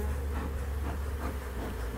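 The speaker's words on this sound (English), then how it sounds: "It's a different feeling when you have bees walking all over you." Honeybees buzzing steadily and close, a dense continuous drone with no voices.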